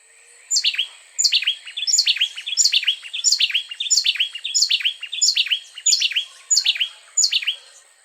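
Two songbirds sing overlapping songs, the louder, nearer bird starting first and finishing last while the other fits its phrases in between; bright, repeated downslurred whistled phrases follow a steady rhythm throughout.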